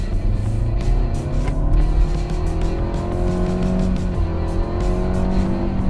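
A Nissan Altima with a 2.5-liter engine, in sport mode, accelerates hard from a standstill to sixty, its engine note climbing steadily in a loud, continuous rising drone with no talking.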